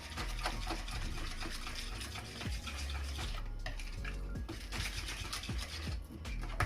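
Eggs whisked by hand in a bowl for banana oatmeal bread batter, a rapid continuous rhythm of utensil clinks and wet splashing, close and steady throughout with no talk.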